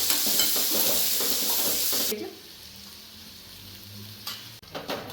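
Chopped onions fry in a pan with asafoetida and green chillies for masala dosa filling, giving a loud sizzle and scraping stirs for two seconds before it drops to a quieter simmer, with a brief clatter near the end.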